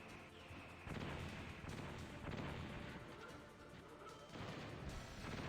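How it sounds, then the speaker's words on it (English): A video game boss fight in Metal Gear Solid on PC produces heavy explosion bursts, with loud crashing booms in several waves and a continuous game sound between them. "Oh, that explosion was so close."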